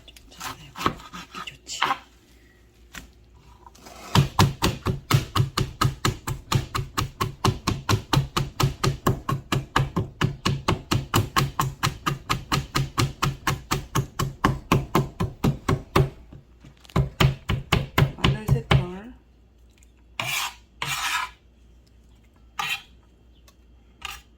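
Lettuce is chopped on a cutting board in a long, rapid run of crisp, evenly spaced knife strikes. A shorter burst follows, then a few scattered final cuts, all close and clear with no speech.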